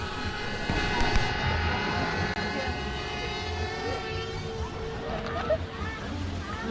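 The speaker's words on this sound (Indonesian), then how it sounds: "Drone mulai naik ya." Camera drone lifting off and flying over a hillside area at Kaligua, Brebes, its whining rotor tones rising and shifting in pitch under wind and a voice.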